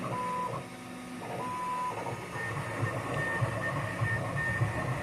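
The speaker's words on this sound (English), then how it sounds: "My grandson got a 3D printer." A 3D printer runs in a home, producing a steady mechanical whir with soft stepper-motor whines and short tonal beeps rising and shifting over a continuous hum, no talking.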